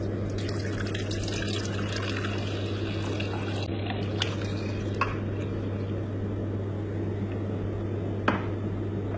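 Fresh milk pours steadily to be heated, giving a continuous soft liquid rush over a constant low hum, with a few faint clicks and no talking.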